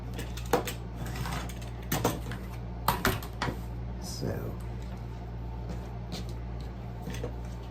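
Rotary cutter slicing through quilting fabric against a ruler, a few short crisp cuts at close range over a steady low machine hum, with someone talking quietly between strokes.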